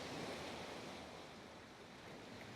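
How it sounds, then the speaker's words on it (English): Steady ocean surf washes continuously along a Dominican shoreline, a broad wind-blown hiss with no distinct breaking crests and no voices. "the sound of the ocean"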